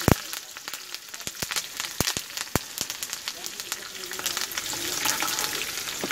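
Dried red chilies and curry leaves fry and crackle in hot oil for a Mumbai hotel-style pori kari chutney, a dense steady sizzle broken by sharp pops and the scrape of stirring, close and without talk.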